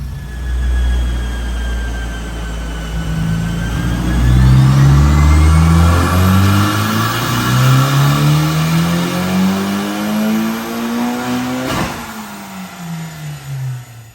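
A Honda Civic Type R FK8 with a Mitsubishi Stage 2 turbo revs hard on a dyno, its engine note climbing steadily under load before cutting off sharply near the end, loud and close with no talk.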